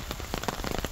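Rain patters steadily on surfaces outdoors in a food forest garden, a close, even wash of small drops with no voices.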